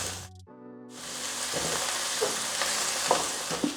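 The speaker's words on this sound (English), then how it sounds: "When the pan heats up, we're gonna add our ground beef. And we're just gonna brown this and break it up as we go." Ground beef browns in hot olive oil in a pan, a brief hum giving way to a steady sizzle punctuated by a few scraping knocks as the meat is broken up; no talking.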